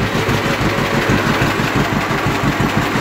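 A John Deere Model B antique tractor engine idling down, a steady close rumbling chug with an even pulsing beat throughout.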